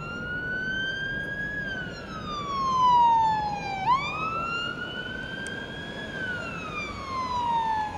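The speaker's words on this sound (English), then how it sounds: "Sirens blaring, a police boat raced to the Marine base last night" A police boat's siren wails loud and close, its pitch sweeping slowly up and down in long cycles with a brief sharp dip in the middle, over a steady rumble of engine and water.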